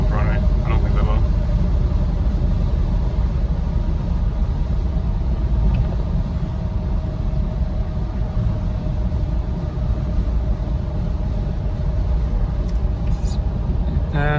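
A long-abandoned Mercedes SL500 roars under hard acceleration, a loud, sustained low engine rumble and road noise from inside the car throughout, with a brief voice at the start.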